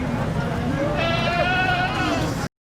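A goat bleats with one long, wavering cry at a busy livestock market in Fateh Jang, heard over constant crowd chatter and people talking nearby.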